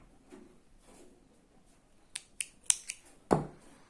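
Scissors snip through crochet yarn in a few quick, crisp cuts close by, ending in one louder snip, with no talking.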